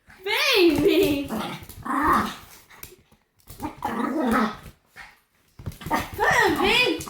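A protective dog growls and barks in short bursts, close and fairly loud, with a few pauses between outbursts; the dog's sounds dominate throughout.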